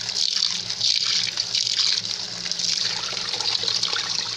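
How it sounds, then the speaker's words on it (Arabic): Tap water runs steadily into a kitchen sink while food is rinsed clean, a close, continuous splashing flow with slight surges. "كما كتشوفوا الماء راه كيهبط صافي"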